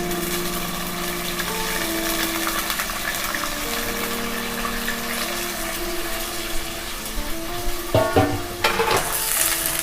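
Beef frying in hot oil for nihari, a continuous close crackling sizzle with occasional hums and a few stirring clatters near the end.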